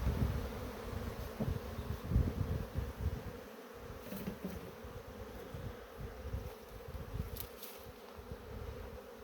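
Honey bees swarm and drone around an opened beehive during honey harvesting and frame selection, a dense, steady buzzing hum that stays close and continuous throughout with small swells in loudness.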